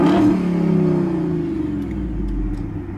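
A 2010 Jeep Grand Cherokee SRT8 V8 engine revs up from idle inside the vehicle, a deep rumbling surge that peaks near the rev limiter, then eases back into a lower steady idle rumble.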